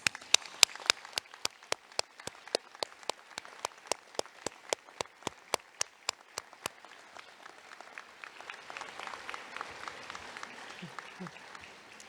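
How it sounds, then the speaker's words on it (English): Graduates in a White Coat Ceremony applaud their family and friends, opening with sharp, evenly spaced individual claps that stop partway, leaving a softer scattered crowd murmur with faint voices. "Please express your gratitude to them with a round of applause"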